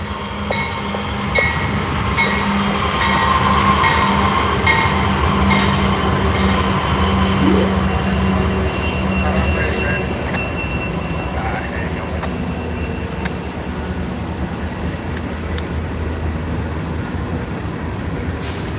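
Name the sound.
CSX freight train passing with AC44C6M locomotive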